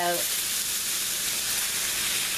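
Spiral-sliced hashbrowns frying in a pan, a steady close sizzle and hiss that fills the whole moment, with a brief voice at the very start.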